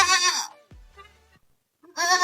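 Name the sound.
goats bleating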